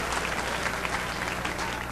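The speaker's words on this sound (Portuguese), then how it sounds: "Aplauda outra vez ao Senhor Jesus." A church congregation claps in a full, continuous burst of applause, many hands together at an even level for a couple of seconds.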